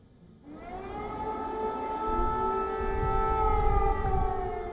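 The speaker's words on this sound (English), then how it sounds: "Air raid sirens sound as the first snows fall on Kyiv." An air raid siren in Kyiv starts after a brief quiet moment and holds a long, steady wailing tone, loud and sustained, swelling slightly as it continues.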